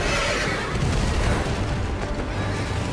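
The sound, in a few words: demon unicorn horse neighing in the video game Bayonetta 2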